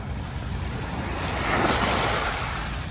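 Ocean waves break on the beach at Manila Bay's Dolomite Beach. The surf is a steady, close wash that swells louder halfway through, with no talking.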